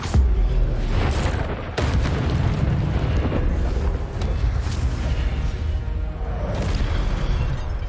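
A roaring burst of fire and booming impacts from a Hogwarts Legacy spell fight, loud and continuous with a few sharp blasts standing out.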